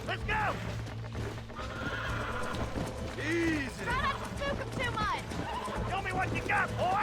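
A horse being broken in Red Dead Redemption repeatedly neighs and whinnies under a man's calm, coaxing speech, with hoof clip-clops and a steady low game hum beneath.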